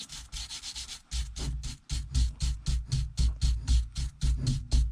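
Steady back-and-forth scrubbing on a suede Alcantara steering wheel with soap, a rhythmic series of brisk rubbing strokes heard up close and alone, roughly three per second.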